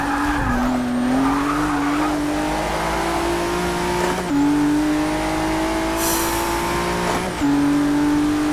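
A 2017 Ford GT race car in Forza 6 screams close and loud, its engine note climbing through gears with about three sharp upshift drops, tires squealing over the top.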